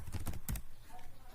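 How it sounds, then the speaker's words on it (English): A burst of quick keystrokes on a computer keyboard while entering accounting data, close and fairly soft, a handful of clicks in quick succession before fading into faint room noise, with a voice present. "So I'll just type production"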